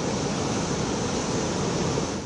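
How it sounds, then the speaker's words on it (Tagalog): Strong, high waves pound the shore at Gonzaga, Cagayan during Typhoon Marce, a dense, steady roar of surf mixed with wind noise, loud and continuous throughout. "Malalakas at matataas pang alon sa baybayin."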